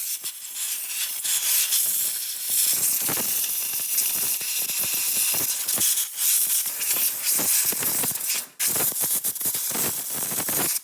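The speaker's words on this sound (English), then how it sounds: "And then obviously air pressure it." Compressed air blasts through an electric motor from an RC car, a steady loud close hiss that runs almost unbroken with small fluctuations and one brief dip near the end.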